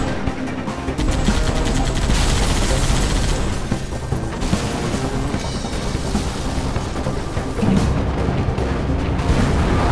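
Heavy turret gunfire in Halo 3: ODST rattles in dense, sustained bursts mixed with booming impacts, loud and near throughout with no talk.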